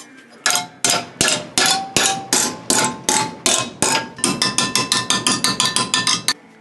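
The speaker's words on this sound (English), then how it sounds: "So I'm just going to bend this up in the vise." A hammer strikes a metal window channel clamped in a vise, bending it in about two dozen sharp, ringing blows: evenly spaced at first, then quicker and closer together, loud and close with no talking.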